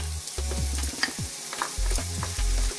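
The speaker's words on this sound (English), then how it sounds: "Always love the sound of frying onions." Bacon and onions frying and being stirred in a pan for a Balkan crop pot dish, a steady sizzle with scraping stir sounds and some background tonal hum, no voices.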